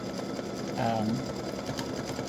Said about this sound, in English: I'm just going to let this stitch so that you can see the whole thing stitching out